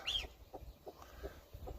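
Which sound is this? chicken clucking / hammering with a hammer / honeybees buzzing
chicken clucking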